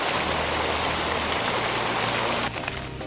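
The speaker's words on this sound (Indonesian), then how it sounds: "Begitu sampai, suara air terjun langsung jadi sambutan pertama." Curug Jenggala waterfall, with its three side-by-side streams of falling water, gives a loud, continuous broadband rush that stays steady throughout and is heard close, with no talking.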